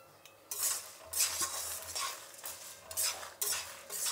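Guntur and Kashmiri chillies are stirred in a hot pan on low heat, a spoon scraping and clinking in bursts over a soft, steady sizzle, close and without talk.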